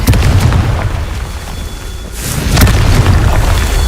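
A loud, booming blast from the Confringo spell in a video game, with a sustained rumbling roar that dips briefly before a second heavy burst swells back up, dense and close.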